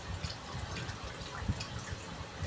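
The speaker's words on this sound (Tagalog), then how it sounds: "Nagdagan ko ng tubig to." Water trickles and drips into a cooking pot during a family dinner, faint and steady, alone with no voices.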